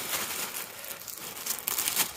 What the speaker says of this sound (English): the plastic bag covering, see what we've got.